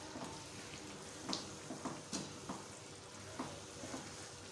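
Mutton aloo keema stir-frying in a karahi, a soft steady sizzle broken by a handful of scraping spoon strokes, close and fairly quiet.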